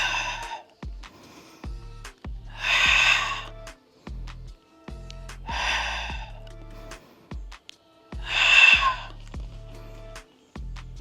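Three audible breaths, each a soft airy rush, during a pilates exercise, spaced a few seconds apart and heard close up with no talking.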